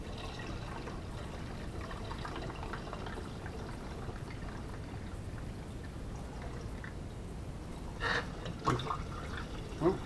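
Cold water pours steadily into a container to top it up while making a light mead, producing a continuous soft gushing wash with a few louder splashes near the end.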